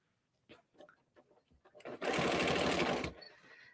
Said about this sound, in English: I have my needle in the down position, so it's always going to land down as I'm stitching.